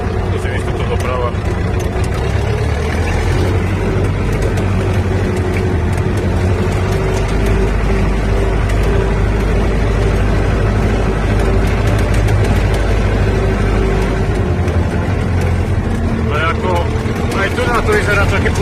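A Zetor 4011 tractor labours through deep, partly frozen mud, its heavy diesel engine droning low and steady up close, with someone talking over the noise throughout.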